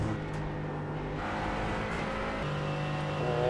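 Race car in the iRacing sim at the IMSA Pilot Challenge Daytona race, a steady engine drone with tonal whine holding close and loud throughout, shifting pitch slightly as another car slips past.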